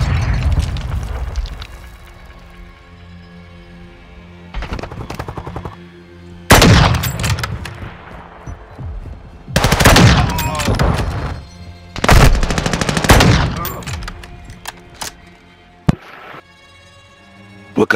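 Loud, sharp gunshots from a marksman rifle in a video game, coming in irregular bursts of single cracks and rapid volleys, each with a booming echo, with quieter stretches in between.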